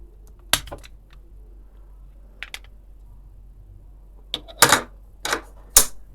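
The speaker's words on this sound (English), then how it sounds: "use a wide screwdriver or penny to twist it" A Honda key fob's plastic case is pried and twisted open with a screwdriver or penny, giving a few sharp clicks and cracking snaps, isolated at first then clustered near the end, close in a quiet room.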